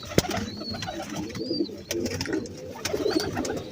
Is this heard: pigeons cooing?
yes